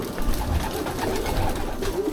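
Racing pigeons in a loft coo continuously at feeding time, a low rolling murmur of overlapping calls close by with no talk.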